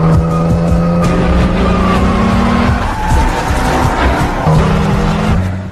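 A car races off at speed, tires squealing in long sustained screeches over a roaring engine, loud and close, with skidding noise continuing throughout.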